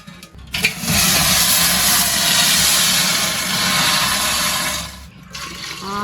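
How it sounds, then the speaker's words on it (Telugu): A loud, steady rushing roar of water boiling hard in a pot, holding for several seconds before briefly dropping away, with no voices. "నీళ్ళు బాగా మరిగిపోయినాయి"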